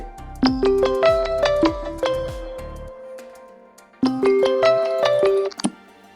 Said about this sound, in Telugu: ఇదనమాట మనకి రింగ్ టోన్